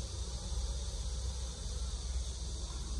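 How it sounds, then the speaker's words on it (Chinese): Honeybees swarm in and out of the entrance of a fully enclosed hive during a nectar flow, making a dense, steady, close buzzing hum that never lets up, with no voices over it. "进进出出的小蜜蜂是很多的"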